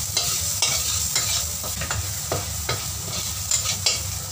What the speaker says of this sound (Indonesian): Minyak sisa menggoreng tahu kita gunakan untuk menumis bawang putih.